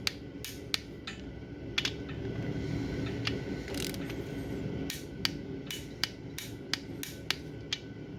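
Torque wrench ratcheting in sharp, irregular clicks while tightening bolts on a Nissan KA24E engine, close and fairly quiet over a low background hum.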